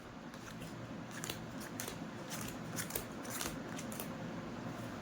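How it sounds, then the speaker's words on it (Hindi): Playing cards are dealt onto a pile during a card trick, giving a series of soft, quick snaps and slides at an uneven rhythm, close and fairly quiet over faint room noise. "एक बार दोबारा डीलिंग करेंगे।"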